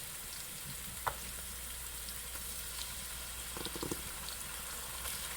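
Dijon mustard sautéing in a pan for a stewed coconut fish and shrimp dish, a soft, steady sizzle with a few light utensil taps and clinks, fairly quiet throughout, with no talking.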